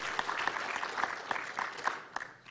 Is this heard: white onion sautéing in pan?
no